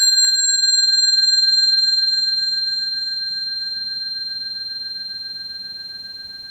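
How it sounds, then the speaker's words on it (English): A pure-toned bell rings one steady high note, held motionless, with a single soft strike at the start and the tone slowly fading over several seconds, alone and clear. "Listen to this high note from this perfect bell as I hold it still."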